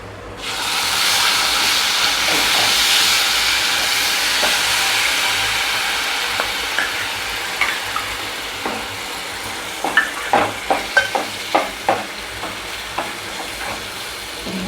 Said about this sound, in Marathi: आता हे सगळं मी या गरम तेलात ओतून टाकणार आहे. तेल गरम झालं आहे. आता मी सगळं टाकते आणि ढवळून घेते